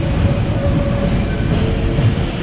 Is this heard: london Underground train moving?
yes